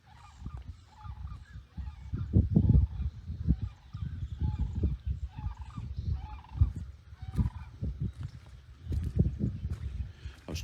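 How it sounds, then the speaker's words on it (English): Distant geese honking in a Florida retirement village, a flock calling repeatedly from far away in an irregular chorus of low honks, faint but persistent outdoors. "I could hear the geese way off in the distance and they're loud"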